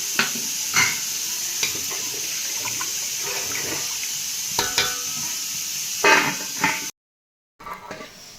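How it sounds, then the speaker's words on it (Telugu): A pot of chicken curry boiling on a stove, with a steady bubbling, watery churn close up and occasional clinks and stirring knocks. It breaks off briefly, then resumes. "చూడండి మరుగుతుంది"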